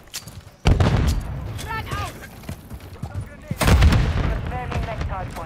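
Call of Duty grenade explosions: two heavy booms a few seconds apart, each with a rumbling tail amid scattered gunfire, while a voice talks over the action.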